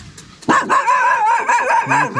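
Dog barking outdoors at a scenic Carpathian waterfall spot near Yaremche, a run of loud, close, harsh barks and yelps that starts abruptly and continues with little pause.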